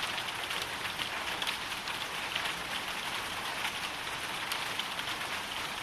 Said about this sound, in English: storm hit the coast, accompanied by heavy rain